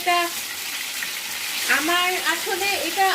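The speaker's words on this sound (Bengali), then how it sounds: "এখন আমরা মাছের মাথাগুলো সুন্দর করে ভেজে নেব।" Fish heads fry in hot oil, cooked until crisp, producing a steady hissing sizzle up close, with a voice speaking over it in the second half.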